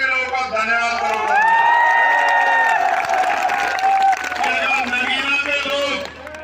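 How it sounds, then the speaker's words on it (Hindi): A crowd at a political rally in Chandpur, Bijnor claps and cheers loudly in a sustained burst, with a voice calling out over the noise. "दोनों हाथ आके ताली बजा के नगीना के लोगों का धन्यवाद करूंगा"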